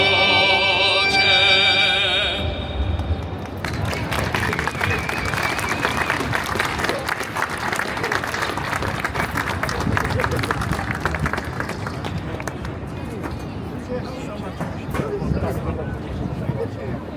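Outdoor crowd applauding a performance at a Polish flag raising ceremony in Daley Plaza, Chicago, following a brief sung ending; steady clapping fills the clip and slowly thins toward the end.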